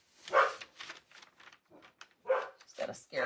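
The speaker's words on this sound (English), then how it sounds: "She's got a scary bark." A pet dog named Sadie lets out a few sharp, fairly close barks and yips, short bursts separated by brief gaps, mixed with someone talking indoors.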